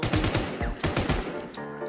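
A heavy machine gun fires in the zombie game Infestation: The New Z in loud, rapid bursts of closely spaced shots with a ringing tail, close and dominant, with no one speaking.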